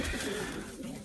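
Racing pigeons resting on straw in a loft coo softly and close by, a low rolling burble that carries through the whole short moment.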